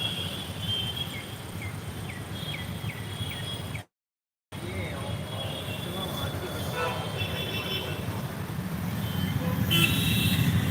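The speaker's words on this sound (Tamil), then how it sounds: "சரியான டிராஃபிக்காக இருக்குது அசோக் பில்லர் சிக்னலில்." Heavy road traffic at the Ashok Pillar signal in Chennai rumbles steadily, with engine drone and a few horn toots, growing louder toward the end.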